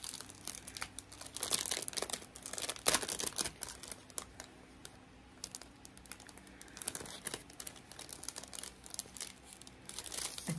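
Crinkly paper mail package being opened by hand, with steady crumpling and tearing rustles close up, in bursts over about ten seconds, no talking.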